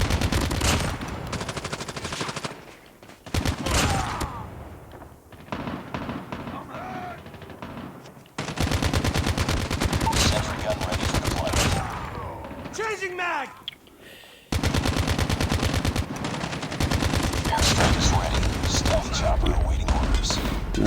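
Automatic weapon fire in a shooter video game, rapid sustained bursts near and loud, broken by short pauses, with someone talking over much of it.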